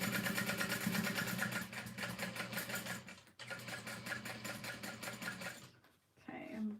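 A sewing machine stitches steadily around the side panel of a bag in rapid, close bursts, pausing briefly mid-seam and near the end, with a voice talking over it.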